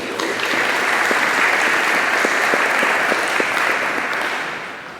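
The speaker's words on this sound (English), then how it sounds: "I'd like to give the committee a hand round of applause" An audience at a Hall of Fame banquet applauds the selection committee, a dense, steady round of clapping that holds for several seconds before starting to fade.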